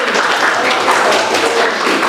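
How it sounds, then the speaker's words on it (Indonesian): A classroom group breaks into loud, continuous applause, a dense wash of many hands clapping at once, close and steady with no talk. "Tepuk tangan kelompok satu"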